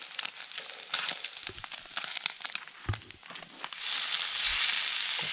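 Spam fried until crisp in a pan at a campsite, sizzling and crackling steadily with intermittent scraping and stirring clatter, the frying swelling louder and denser toward the end.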